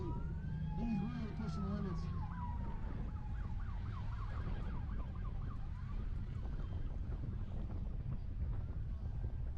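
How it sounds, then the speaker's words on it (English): During a pass in a stock-class dirt race, a car's horn sounds as wavering, rising and falling tones over loud engine roar and wind buffeting, with a commentator talking over it. "I hear Dawson Allington with his horn on."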